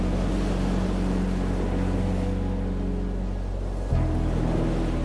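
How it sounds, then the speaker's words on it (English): Steady, continuous wash of ocean waves at Harihareshwar beach at sunset, a dense broadband roar with a low rumble, loud and close, with no speech. "The sound of waves, the sun setting, gentle breeze made for the perfect evening view."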